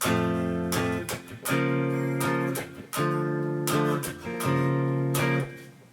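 Crunchy distorted electric guitar chords strummed in bursts, sustained chords broken by brief muted scrapes, played loud and close.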